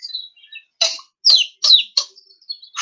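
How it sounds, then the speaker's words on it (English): Young bird chirping in a series of short, high tweets with brief pauses between them, close and clear with no other sound around. "Robin and Daisy find a baby bird."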